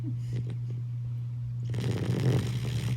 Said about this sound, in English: Snores like an old man.